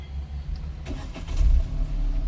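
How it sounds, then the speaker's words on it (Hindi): A car engine cranks and catches, turning over and settling into a low, rising idle rumble nearby, with no talking. "स्टार्ट करनी है गाड़ी को, स्टार्ट करो"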